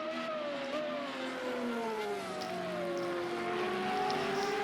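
A Formula Renault race car at Road America draws closer from behind, its engine note climbing and sweeping in pitch over the steady drone of another car's engine, rising slightly in loudness as it nears.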